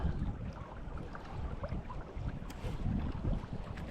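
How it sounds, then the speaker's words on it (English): Blustery wind on a riverbank during a fishing session, a low rumbling buffet of gusts against the microphone, moderately loud and rising and falling throughout with nothing else clearly heard. "It's blustery wind."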